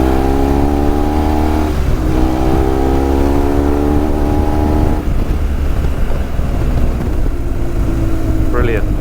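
A 2004 BMW R1200GS K25 motorcycle climbs an off-road hill on green lanes at Salisbury Plain, its engine droning loud and close with rising and shifting revs, heavy wind buffeting throughout and a rider's voice over it.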